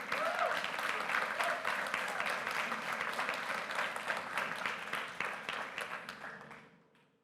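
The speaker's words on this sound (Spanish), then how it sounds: "¿Qué le parece si le da un aplauso al Señor?" A church congregation breaks into sustained applause at full strength for about six seconds, then the clapping thins and fades out to near silence at the end.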